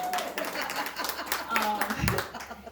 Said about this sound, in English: We could clap for that because it's a good thing.